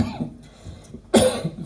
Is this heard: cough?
yes